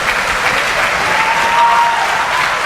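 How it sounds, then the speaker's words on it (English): Audience at the IIT Kanpur E-Summit 2019 inauguration gives a round of applause, loud, steady, dense clapping from a large crowd that fills the whole short moment. "A big round of applause, ladies and gentlemen."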